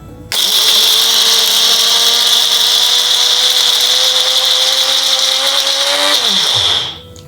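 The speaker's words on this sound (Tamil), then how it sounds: "இந்த ஊற வச்சுருக்க நெல்லி வற்றல் மற்றும் பச்சை பயிரை அந்த தண்ணியே சேர்த்து நம்ம அரைச்சிடணும்." Blender grinding soaked dried gooseberry and green gram together with their soaking water: a loud, steady whirring drone runs for about six seconds, then winds down and stops.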